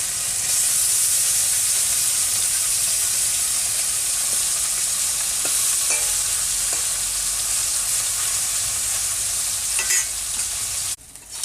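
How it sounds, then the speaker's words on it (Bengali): Small fish frying in hot oil for a bottle gourd curry give a steady, loud sizzle with a few faint utensil clicks, and the sound cuts off briefly near the end. "এখন প্রথমে এই মাছগুলোকে ভেজে নেওয়া হচ্ছে"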